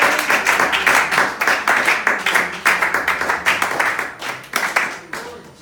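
Church congregation clapping together in a steady rhythmic beat during a French-language worship service, dense and lively, gradually thinning toward the end.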